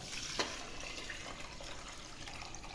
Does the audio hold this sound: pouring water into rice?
yes